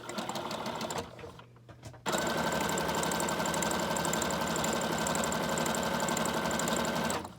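A sewing machine stitches zigzag across a bubble mailer for a junk journal, a rapid rattling run that stops briefly and then resumes as one long, steady, close burst.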